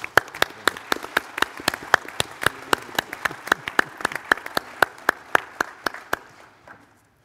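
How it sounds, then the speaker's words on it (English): A small audience at a conference roundtable claps for about seven seconds, each clap sharp and distinct, in a fairly steady rhythm that thins out and fades at the end. "give Bob a round of applause for all that he has done for all of us"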